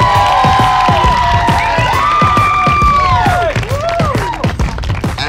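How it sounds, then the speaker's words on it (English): An award-show audience cheers and whoops loudly over sustained applause, a dense, close crowd roar with scattered high shouts that eases slightly near the end. "Please give a big round of applause for Ethan Ituli."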